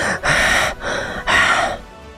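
Two deep, harsh gasping breaths, loud and close, each a sharp rushing inhale lasting about half a second with a brief pause between, as a character wakes in an aswang horror audio drama.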